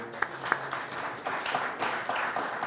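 An audience at a public administration presentation gives a soft, sustained round of applause, with a few sharper claps standing out near the start.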